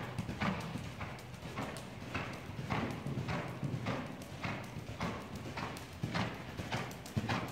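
Hooves of a ridden horse clip-clop in a steady walking rhythm, about two footfalls per second, fairly quiet, with no talk.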